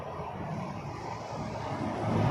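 A Sunwing Boeing 737-800 airliner at Toronto Pearson gives a steady, fairly distant engine roar that slowly swells louder toward the end, with no talking.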